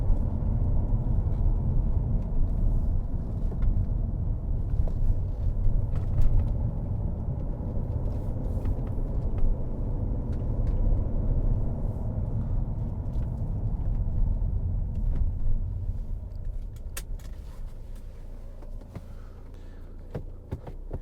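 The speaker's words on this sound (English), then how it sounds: "it's for a diesel, it's a nice sounding vehicle." Idling 2014 Mercedes-Benz SLK250 CDI diesel gives a steady low rumble, close and even throughout with no voices.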